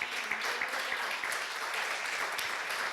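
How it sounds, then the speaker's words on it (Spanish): Churchgoers at a service break into applause, a fairly soft, continuous patter of many hands with a few sharper claps, sustained without pause for a few seconds. "¿Le damos un aplauso al Señor?"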